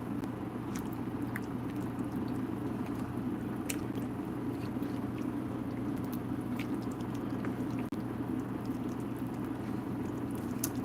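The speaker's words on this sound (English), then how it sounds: "So let me just stir this up." Chili being stirred in a pot makes a steady wet squishing and bubbling churn, with faint clicks from the spoon, running close and continuous with no talking.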